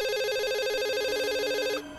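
A telephone rings in an empty apartment in an audio drama, a steady warbling electronic ring tone that holds for nearly two seconds before stopping abruptly.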